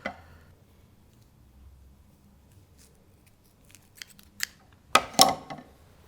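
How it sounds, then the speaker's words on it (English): Scissors cutting a strip of lace for a pavlova craft: quiet at first, then a few sharp snips followed by a cluster of louder crisp cuts near the end, close by with no talk. "I'm going to cut out another piece of lace for the top layer"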